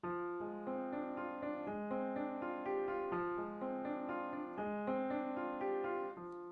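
Low-register piano notes from the left hand, a repeating two-note figure rocking back and forth at an even, moderate pace, from an RCM Level 2 piece.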